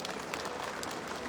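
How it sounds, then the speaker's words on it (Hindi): A crowd gives soft, steady applause to welcome a guest at the Sarna Dharam Maha Sammelan gathering in Netaji Indoor, a dense patter of many hands clapping at a distance. "उनका भी ताली के गड़गड़ाहट का स्वागत करें।"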